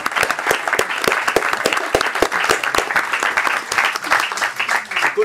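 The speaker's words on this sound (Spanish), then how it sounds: "bienvenido, un aplauso" Audience applause welcoming a panelist at a round-table discussion on visibility for video game studios, steady dense clapping from a crowd lasting several seconds with some voices faintly mixed in.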